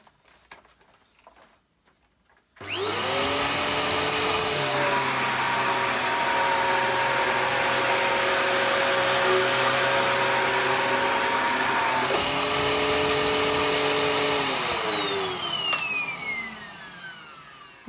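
An Arctic Blue Dyson DC01 vacuum cleaner switches on and runs steadily as it is pushed back and forth over lint on a floor, a loud, close, constant whine that shifts pitch briefly midway before winding down.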